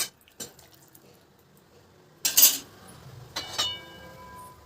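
Two short bursts of water splash into a pot, separated by a pause, with faint clinks and quiet in between.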